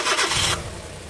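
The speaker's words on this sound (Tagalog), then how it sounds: "Maganda na rin yung tunog na makina. Wala na siyang tagiktik." A Suzuki K6A car engine turns over and catches, a loud broadband burst settling into a lower steady idle rumble with no misfire or ticking, no voices.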